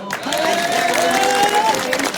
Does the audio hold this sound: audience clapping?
yes